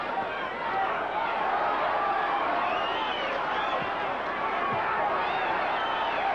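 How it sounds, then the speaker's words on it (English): A boxing crowd roars and murmurs continuously in a big arena during the Pinklon Thomas vs Mike Weaver heavyweight fight, a dense, steady wall of fan noise without clear single voices. "Crowd really into this fight now, and the crowd seems supportive of Weaver"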